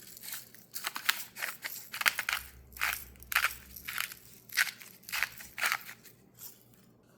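Salt being ground onto beef stew, a dry crunching grinder rattle in rapid repeated bursts, close and fairly loud, with no talk.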